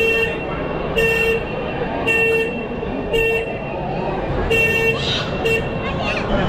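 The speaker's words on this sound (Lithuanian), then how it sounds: "Čia visas pypsinimas dėl manęs." Vehicle horns honk repeatedly in Indian traffic near an airport, a series of loud, evenly spaced beeps over a busy road hum and a murmur of voices.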